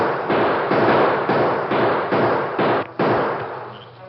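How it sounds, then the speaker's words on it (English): Staged gunfire in a 1949 Lone Ranger radio western: a rapid series of about seven loud, flat shot bursts in close succession, each cut off abruptly, with no voices over them. "they opened fire"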